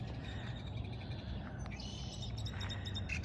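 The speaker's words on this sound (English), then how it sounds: "Listen to these birds." Birds calling outdoors near Flagstaff, Arizona, short chirps and whistles over a low rumbling background, fairly faint and distant.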